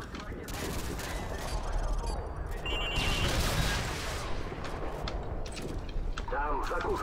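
Dense gunfire and explosions in the video game Call of Duty: Modern Warfare 2, a loud continuous battle din of shots and blasts running throughout with voices over it.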